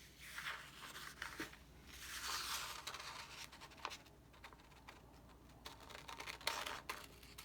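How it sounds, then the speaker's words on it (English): Scissors slowly cutting a traced square out of paper, soft slicing snips and paper rustle close by at low volume, with gentle handling noises in between and no speech. "I'm going to slowly and carefully cut out my square"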